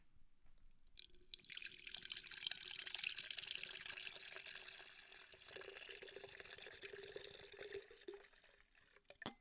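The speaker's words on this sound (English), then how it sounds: "So let's give this drink a pour into the sip glass." Dunkin' Spiked mocha drink poured from the can into a sip glass, a steady close liquid stream with dripping and fizzing that runs for several seconds before tapering off.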